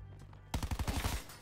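Submachine gun firing in Black Ops 4, a quick burst of about ten rapid, punchy shots at close range, loud and evenly spaced after a brief quiet lead-in.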